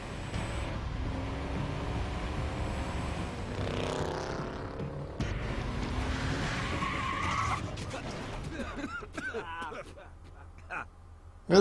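A car skids with a long squealing rush of tyres in the video game Tales from the Borderlands, loud and sustained for several seconds before fading into quieter sounds with brief voices.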